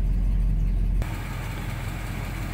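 A 1969 Dodge Charger Daytona engine idling near operating temperature, a steady, loud, close low rumble that drops to a slightly quieter, even idle partway through, with no talk.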